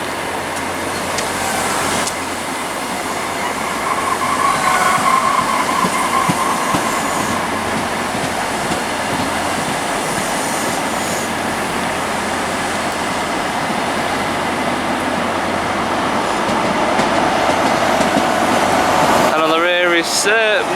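A Class 43 diesel HST power car running through Reading station on the Great Western Main Line, giving a loud, steady rumble and rail clatter that holds for about twenty seconds before cutting off abruptly.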